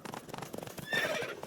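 Roach, Geralt's horse in The Witcher 3: Wild Hunt, lets out a loud, close whinny over a brief burst of rhythmic galloping hoofbeats.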